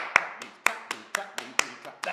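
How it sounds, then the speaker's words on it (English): Crisp alternating claps and slaps on knees in a steady rhythm, about ten hits in two seconds, close and distinct. "Knees, clap, knees, clap, knees, knees, clap, clap, knees."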